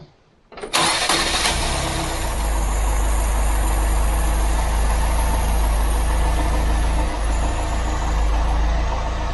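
A Ford Pinto engine with electronic ignition cranks once and catches, then settles into a loud, steady, close running idle that continues unbroken to the end.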